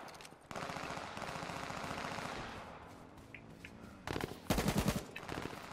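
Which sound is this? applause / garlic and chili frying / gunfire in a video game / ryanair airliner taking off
gunfire in a video game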